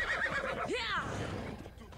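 A horse in Assassin's Creed Odyssey gives one short, rising-and-falling whinny over a low background murmur, fairly close.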